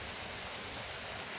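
Steady rain falling on a cold, wet day, a dense even hiss that fills the whole moment without pause or voices.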